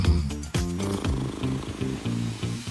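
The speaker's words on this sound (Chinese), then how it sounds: "睡觉的时候听听他的呼噜声" A sleeping person snores in a low, fluttering rumble, a run of short rhythmic buzzing pulses heard up close at moderate volume, with no speech.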